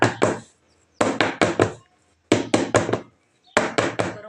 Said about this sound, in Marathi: थोडंसं मी एकसारखं टॅप करते त्याला